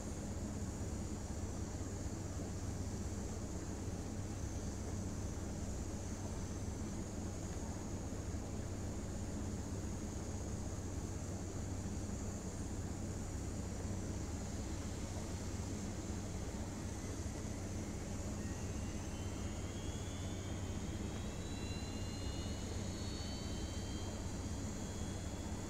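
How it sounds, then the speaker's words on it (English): Simulated jet engine of a Challenger 300 business jet spooling up in X-Plane 11, a steady broadband roar with a rising whine sweeping upward in the later part, constant and fairly loud throughout with no talking. "Starting engine 1."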